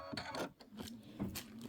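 A home embroidery sewing machine stitches out a bicycle quilt block with rapid mechanical whirring and clacking bursts, close by and moderately quiet, rising and dipping unevenly.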